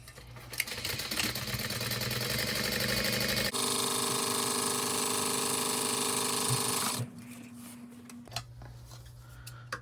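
A sewing machine stitches a seam on a fabric crossbody bag at 4.5 stitch length: a short burst, then a loud, steady mechanical whir running for several seconds before it stops, leaving quiet room tone.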